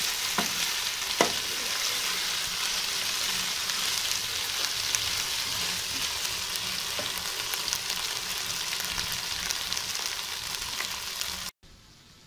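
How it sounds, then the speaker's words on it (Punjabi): Okra (bhindi) fries in hot oil with a loud, steady, close sizzle that runs unbroken for about eleven seconds, with occasional faint pops, before cutting off abruptly near the end. "ਪੰਜ ਕੁ ਮਿੰਟ ਭਿੰਡੀਆਂ ਨੂੰ ਤਲਾਂਗੇ ਭਿੰਡੀਆਂ ਨੂੰ ਤਲ ਕੇ ਵੀ ਕੱਢ ਲਵਾਂਗੇ"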